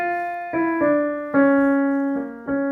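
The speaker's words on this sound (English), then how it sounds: "imagine we didn't use melodic minor, but harmonic minor, and it would sound like this." Melody in a harmonic minor scale, played as a sequence of sustained tonal notes with clear harmonics, about five notes changing at uneven intervals, close and moderately loud with no talking.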